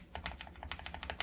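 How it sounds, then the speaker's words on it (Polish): Keys and the spacebar of a Dark Project ALU87A mechanical keyboard, an ANSI-layout board with dampened switches, typed in a quick uneven run of soft, muted clacks, close and alone. "Sprawdźmy sobie, jak ta klawiatura brzmi."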